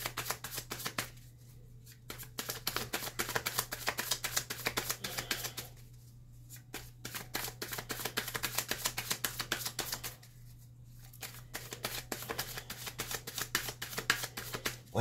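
Oracle cards shuffled by hand in a long run of crisp riffling flutter, broken by two brief pauses, close and steady with no talk.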